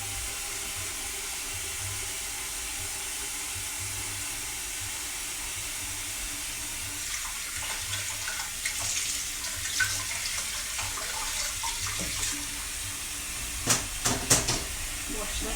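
A wooden spoon is washed under a running kitchen tap, a steady hissing stream with a few sharper clatters and splashes toward the end, close but moderate in level, with no talking.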